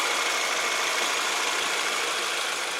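A 2018 Subaru Forester's 2.5-litre boxer four-cylinder engine idles with the hood up, a quiet, even, steady hum that holds without change throughout.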